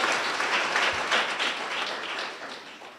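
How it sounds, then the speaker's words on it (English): A conference crowd at an employment creation conference opening ceremony applauds with dense, steady clapping that holds for a few seconds, then gradually thins and fades. "give him a round of applause again"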